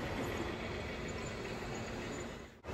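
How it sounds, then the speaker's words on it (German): A model coal railway train runs on a layout depicting the line between Dolwitz and Bad Domberg near Leipzig. It makes a steady close rumble and rolling clatter that briefly cuts out near the end, with no voices. "das ist ein Modell der Kohleneisenbahn zwischen Dolwitz und Bad Domberg"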